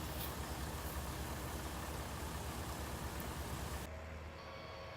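Steady, loud engine drone from a tractor in Farming Simulator 19, running continuously and dropping to a quieter, thinner rumble near the end.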